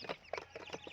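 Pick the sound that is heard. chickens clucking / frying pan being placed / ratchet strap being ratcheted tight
chickens clucking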